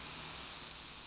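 Freshly dry-roasted pine nuts, oily and hot from the pan, keep up a soft, steady sizzling hiss after being tipped into a bowl, faint and close with no talking.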